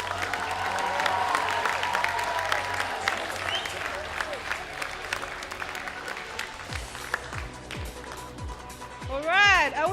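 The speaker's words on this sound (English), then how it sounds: "Round of applause for two schools." An audience applauds two secondary schools at a debate grand final in Lae, a sustained burst of clapping with some cheering from the crowd, while voices talk over it.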